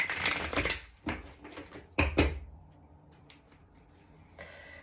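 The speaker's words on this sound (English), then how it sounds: "one more shuffle for Gemini." Playing cards are riffled and shuffled in a few quick bursts close by, followed by softer shuffling and faint handling noises.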